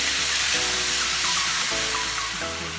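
Potatoes and half a carrot fry in a pan for a pork menudo, a steady close sizzle and hiss running throughout with no talking.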